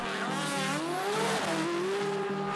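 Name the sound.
drag racing car launching down the track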